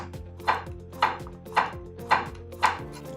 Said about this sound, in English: A Santoku knife has a straighter blade that makes chopping really easy.